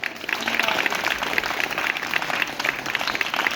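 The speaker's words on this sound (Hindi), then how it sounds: "तालियां बजनी चाहिए इस काम के लिए।" An audience at a church gathering breaks into applause, dense steady clapping from many hands that fills the room for several seconds.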